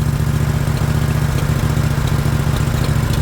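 A small V-twin engine on a Countax ride-on mower idles steadily at close range, a low continuous rumble with a throbbing, uneven beat and no voices over it.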